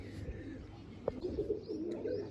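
Pigeons, including last year's bird, coo softly in low rolling phrases near a net enclosure, with one sharp brief click partway through.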